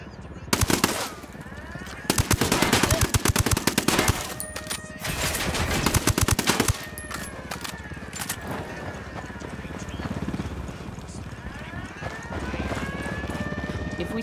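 Gunfire in the Ghost Recon Wildlands video game, loud rapid automatic bursts in several volleys with scattered single shots and background game sounds, with voices in between.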